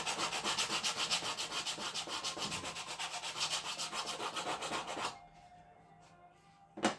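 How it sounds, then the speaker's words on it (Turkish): Sandpaper wrapped on a wooden block sands a wooden model ship hull in fast, rhythmic back-and-forth strokes for about five seconds, then stops, with one last short scrape at the end. "Bir başka şekil yine takoz ahşap bir takozla zımpara devam edebilirsiniz."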